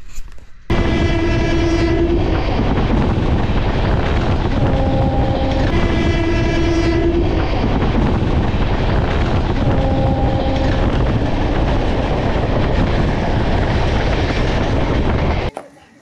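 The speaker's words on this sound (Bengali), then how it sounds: "এই হচ্ছে আমার ট্রেন দাঁড়িয়ে আছে" The Radhikapur Express rumbles steadily nearby while its horn sounds in several long, loud blasts, some repeated in pairs, over continuous engine and wheel noise.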